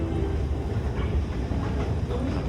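Seattle airport's tram train rolls along with a steady low rumble and faint rhythmic clatter, heard up close from inside, continuous throughout with no talk.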